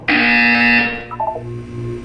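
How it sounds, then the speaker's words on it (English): A loud, harsh electronic buzzer from the video game Portal 2 sounds once for under a second, then a few softer, lower tones trail off alone. "You will hear a buzzer."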